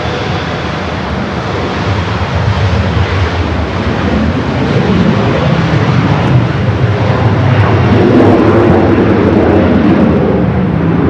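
A Delta Boeing 737-800 airliner arriving at Los Angeles International Airport from San Francisco roars past, a loud continuous engine rumble that builds slightly toward the end, with no talking over it.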